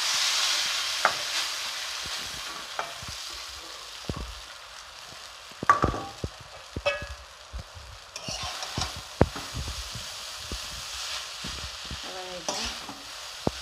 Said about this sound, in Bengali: চাউমিনটা একটু কড়াই ভেজে নেবো